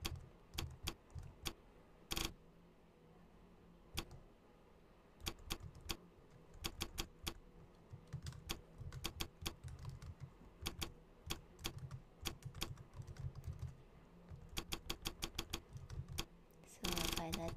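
Computer keyboard typing during a livestreamed coding session, quiet clusters of quick clicking keystrokes in irregular bursts separated by pauses, with a faint low hum beneath.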